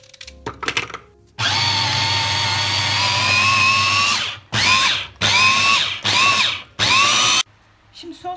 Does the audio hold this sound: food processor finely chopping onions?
yes